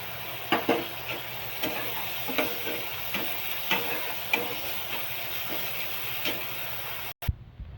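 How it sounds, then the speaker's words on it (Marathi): Onion and tomato frying in a pan, a steady close sizzle with a spatula scraping and stirring in regular strokes, no voices, cut off abruptly at the end. "कांदा टोमॅटो पण भाजत आलाय बघा."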